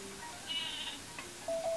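Short synthesized sheep bleat from the Sleepy Sheep item in the Paper Mario video game, a faint wavering cry over quiet game background sounds, followed by a brief electronic tone.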